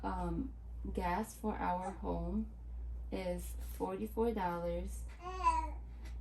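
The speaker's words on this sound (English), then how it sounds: "Please excuse the baby noise" A baby babbles and coos in short, lively bursts close to the microphone, with an adult voice speaking briefly between them.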